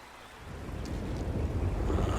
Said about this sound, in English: We got a storm coming in